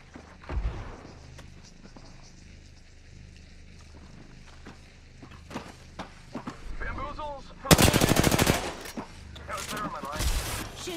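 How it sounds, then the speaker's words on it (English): Gunfire in Apex Legends, scattered single shots early and then a loud rapid automatic burst near the end with further shots, amid game effects and spoken voices. "Shooting."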